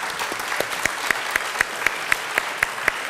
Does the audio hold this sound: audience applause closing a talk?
yes